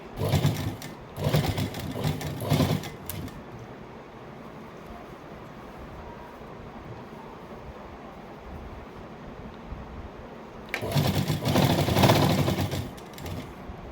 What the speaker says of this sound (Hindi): अब इसको ऐसे मिलाते हुए हमें इस पर सिलाई लगा लेनी है।